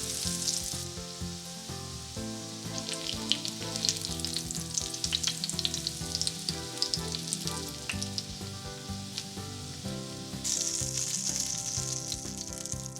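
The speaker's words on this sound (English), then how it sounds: "we're going to continue the process till we finish frying all the chicken." Steady, loud sizzling and crackling of chicken frying in hot oil for chicken parmesan, with occasional utensil clinks, continuing throughout without any talking.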